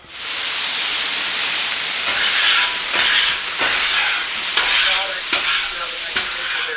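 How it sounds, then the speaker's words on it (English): Water hits a hot Blackstone griddle top, bursting into a loud, steady sizzle and steam hiss, with rhythmic metal scraper strokes pushing sugary grease toward the grease cup. "It'll pretty much instantly deglaze the griddle top, and we'll just lightly scrape all that sugary grease off into the grease cup."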